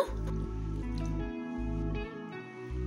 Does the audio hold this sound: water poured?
yes